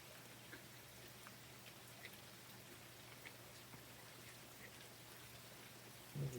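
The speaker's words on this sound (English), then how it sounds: "Should hear the rain. The rain sounds pretty." Steady rain falls during a storm in Missouri, a soft continuous patter of drops with scattered louder splashes, heard at a distance with no talk and a brief closer rustle at the very end.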